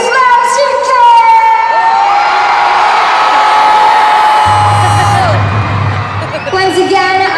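A concert audience at a show in Manila screams and cheers loudly in one sustained, high-pitched roar that swells, then dips near the end.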